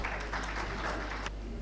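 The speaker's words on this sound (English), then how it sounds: "Can we please have a big round of applause for sir," An audience at a rail and urban infrastructure expo inauguration claps briefly in a short burst of applause that stops abruptly, leaving low room hum.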